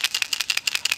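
A small ball rattles inside a rollover vent fitting, a bulkhead fitting for a race car fuel cell. The clicks are rapid, fairly even, light and metallic, close by and heard alone.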